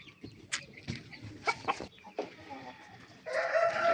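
Decorative chickens and a rooster cluck close by in short, uneven bursts, followed by a louder, sustained crow-like call at the end.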